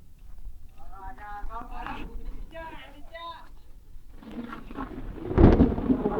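People talk in the background at an outdoor turmeric ceremony under a tented pavilion, then a low rumble of thunder swells near the end, before rain.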